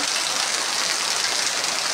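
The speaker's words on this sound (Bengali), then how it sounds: "দেখো কত বৃষ্টি হইতেছে, অনেক বৃষ্টি হচ্ছে" Steady downpour hammers a tin roof, a thick, even hiss of countless drops close by, continuous and unbroken, with no one speaking.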